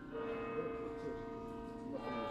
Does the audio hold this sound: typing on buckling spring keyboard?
no